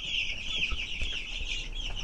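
A flock of farmed broiler chickens, eleven days old, clucking and peeping together in a dense, continuous chorus, fairly close and steady throughout.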